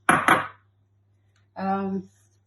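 Dry ingredients of flour, desiccated coconut, oats and sugar get stirred together in a large bowl for ANZAC cookies, heard as two quick close scrapes followed by a longer rasping stir, with silence between.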